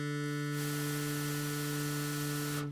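A Plinky synthesizer preset with a changed wave shape and added noise drones as a steady buzzy tone under a wash of broadband hiss, loud and constant before cutting off at the end.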